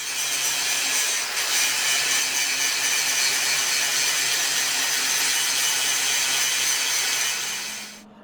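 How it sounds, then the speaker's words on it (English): Angle grinder cleaning up tack welds on a steel guillotine tool, a steady harsh grinding whine running continuously at close range and tapering off at the end, with no talking. "Now we will take it over to the grinder and clean up all our tack welds here and stuff like that."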